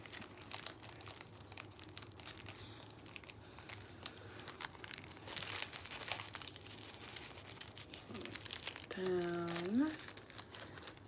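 A homemade root bag is folded down and closed, giving close, steady crinkling and crumpling over a low room murmur. A voice rises briefly near the end.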